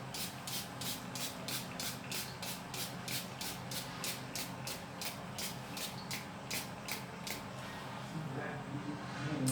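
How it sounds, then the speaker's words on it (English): A vitamin C toner is misted onto a face in a long run of quick, even spray bursts, about twenty short hisses in a steady rhythm, close and fairly quiet, with no talking. "So you have to spray enough, like enough."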